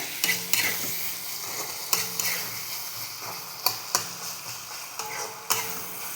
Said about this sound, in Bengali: মুরগি ভাজা হবে এটা।